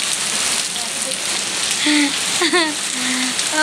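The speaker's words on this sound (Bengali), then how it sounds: "আর দেখো কত জোরে জোরে বৃষ্টি হচ্ছে" Heavy rain roars steadily close by while a voice speaks briefly and faintly beneath the downpour.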